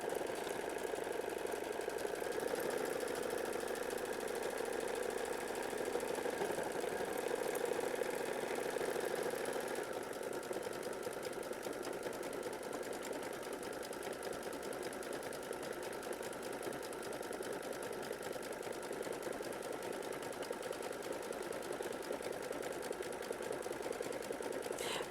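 An embroidery machine stitches out an applique block in a steady, continuous mechanical whir with a rapid needle rhythm, close and moderately loud throughout with no talking.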